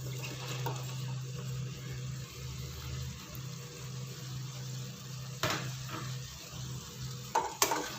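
Mushrooms being stirred into a tomato masala in a pan, with a steady low sizzle and soft scraping of the spoon throughout, plus a few sharper clinks of utensil against the pan near the end.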